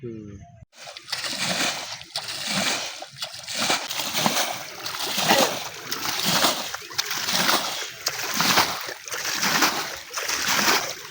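Water splashes and sloshes in repeated surges, loud and close, as a rice paddy field is irrigated, with people talking over the churning flow.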